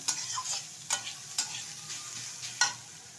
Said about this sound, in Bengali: এখন আমি নেড়ে চেড়ে নিচ্ছি একটু তেলের সাথে।